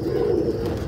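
Pigeons give a steady low coo, near and fairly loud, lasting under a second with nothing else over it.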